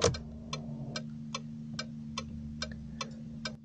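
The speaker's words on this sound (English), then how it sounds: "The blinkers." Regular mechanical ticking of a car's turn signal blinkers, eight evenly spaced clicks at a steady rhythm over a low continuous engine hum, close and clear with no talking.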